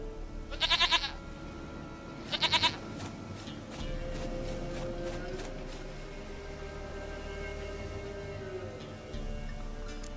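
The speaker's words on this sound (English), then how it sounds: "Goat of mine, dearest, sweetest goat." A goat in The Witcher III bleats twice in short, wavering bursts near the start, followed by a low ambient bed with faint chatter from people in the background.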